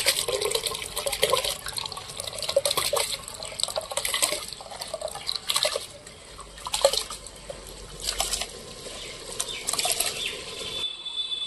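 Soaked rice being tipped into a pot of hot water on the stove while cooking handi mutton, giving a close splashing, pouring and dripping wash of water that rises and falls in bursts, with clattering touches.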